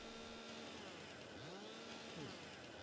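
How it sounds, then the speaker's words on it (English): Chainsaw buzzing steadily against a tree in the farming game Farming Simulator 22, a continuous whining engine drone that rises and dips slightly, heard fairly quietly with no talk over it. "You can hear the chainsaw going"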